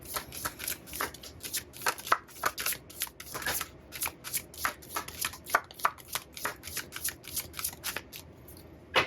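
Fortune reading cards shuffled close up in a steady run of crisp riffling bursts, repeating rhythmically and fairly quiet, with no talk over them.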